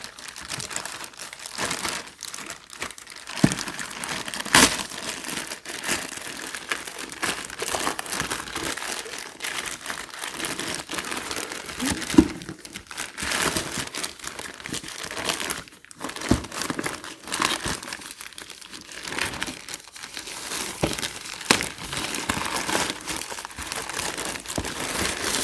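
Plastic bag wrapping a pair of Synth Reflective Yeezy 350 V2 shoes crinkles and rustles continuously as it is handled and unwrapped, close up, with dense crackling bursts and a few sharper tearing-like rips.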